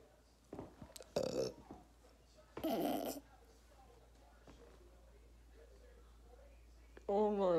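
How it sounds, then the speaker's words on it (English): A person burps a few times, short loud guttural bursts separated by quiet pauses, ending with brief voiced sound. "Oh my god, I just burped."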